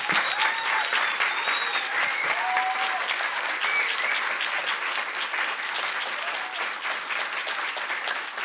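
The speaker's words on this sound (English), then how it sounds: "can you please give our wonderful, wonderful, wonderful panel a round of applause?" Sustained audience applause for a lecture panel, steady dense clapping from a large crowd with a few whoops and cheers rising above it.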